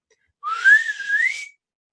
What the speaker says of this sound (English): he lets out this kind of pitchy